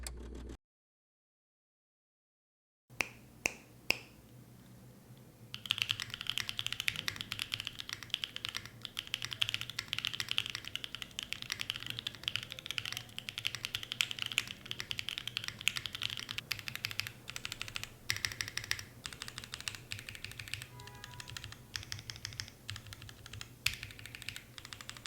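Mode Tempo mechanical keyboard being typed on, with a brief pause before a steady, fast run of crisp, close key clacks that continues throughout with no voices.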